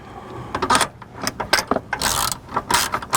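A 10 mm wrench ratcheting loose the nut on a battery terminal of a 2015 Subaru Forester, giving several quick, close bursts of clicking pawl sounds separated by short pauses.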